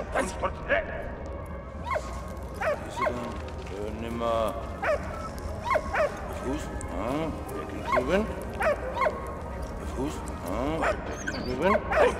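A dog in the video game Valiant Hearts gives short barks and whimpers, scattered across the stretch under steady game music and a voice talking over it.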